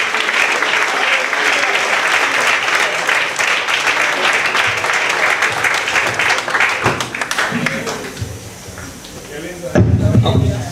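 Church congregation applauding during an evening service, a loud dense wave of clapping that fades toward the end as voices and shuffling take over.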